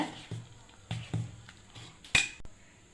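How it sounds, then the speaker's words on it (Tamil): Batter of horse gram chutney and spicy paniyaram mix stirred in a bowl: a few separate soft scraping strokes with a brief clink of spoon against the bowl, close and fairly quiet, with no talking. "இப்போ வந்து நம்ம இதை எடுத்து மாவு கூட கலந்துக்கலாம் பாருங்கள் இதை நல்லா கலந்துக்கலாம் மாவு கூட"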